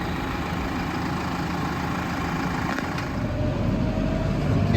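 A tractor engine runs steadily while grading ground with a small rake, a dense low rumble that swells slightly louder toward the end, with no talk.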